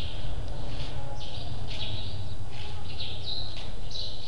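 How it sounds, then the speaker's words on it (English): Birds chirp intermittently in short high calls over a steady low background hum, heard at a guest house in India in the morning. "Birds flying around."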